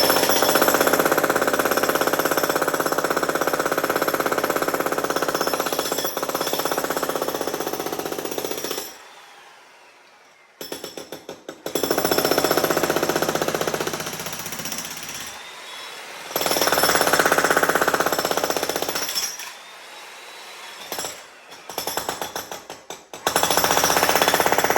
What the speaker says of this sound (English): I'm going to start chiseling right here